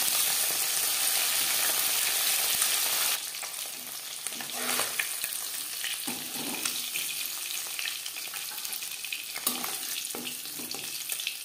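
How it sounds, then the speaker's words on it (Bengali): Tangra fish fry in oil in a pan with a loud, steady sizzle at first, then a quieter crackle broken by occasional scrapes and pops as the pieces are moved or turned. "একটা সাইড ভাজা হয়ে গেলে অপর সাইডটা উল্টে দেবো।"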